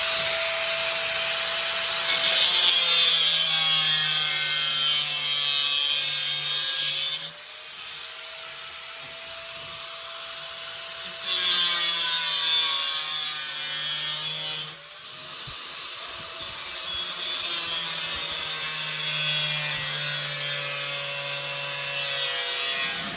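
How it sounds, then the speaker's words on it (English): An angle grinder cuts copper sheet to make a copper rose, a high whining grind in long passes that stops briefly twice and resumes, close and loud. "just simple as using the angle grinder. Let's cut round the things."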